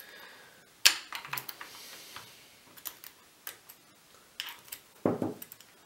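Bolts being pulled out of a Rap4 T68 paintball marker, a few sharp metallic clicks and small knocks spaced irregularly, close and fairly quiet with no talking.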